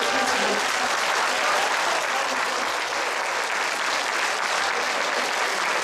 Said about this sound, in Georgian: აბა ვნახოთ როგორი აპლოდისმენტები